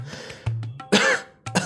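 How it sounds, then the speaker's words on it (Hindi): A man with a cold gives a few rough throat clears followed by two harsh coughs, close and loud, in quick succession. "इतना खांसे जा रहा है"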